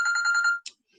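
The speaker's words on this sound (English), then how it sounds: "Sorry about that phone." A telephone ringing: one short, loud, close electronic trill lasting about half a second, followed by a brief click and then silence.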